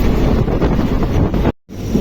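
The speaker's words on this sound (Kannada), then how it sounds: "ಸಿಕ್ಕಾಪಟ್ಟೆ ಮಳಿ ಜೋಡಿ ಗಾಳಿ ಎರಡು ಕೂಡಿ ಹನಿ ಸಿಕ್ಕಂಗೆ ದೊಡ್ಡದಾವು." Heavy rain driven by strong wind buffets a moving train near Honnavalli Road, a loud dense roar of gusts and downpour close to the microphone, briefly dropping out near the end.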